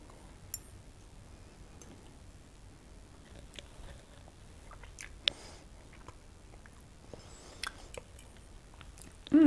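Someone chews a bite of lemon lime jello salad during a taste test, with soft, close, wet mouth sounds and a few faint clicks spread through a quiet stretch, and no talking.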